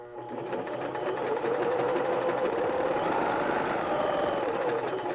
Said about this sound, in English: Now we can stitch forward again, and I am watching right here where the edge of my fabric is at the 5/8 inch line.